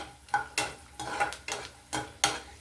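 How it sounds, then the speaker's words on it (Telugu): Onion pakoras fry in oil over a medium flame, with a soft sizzle under a run of sharp scraping or stirring strokes that repeat about every half second. "మీడియం ఫ్లేమ్లో పెట్టి వేగించుకోవాలి పకోడీలు"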